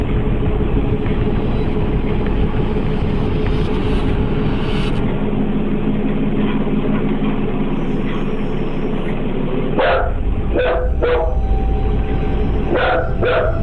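A frightened dog yips and barks in several quick, sharp bursts near the end of the clip, close and loud over a steady indoor background hum.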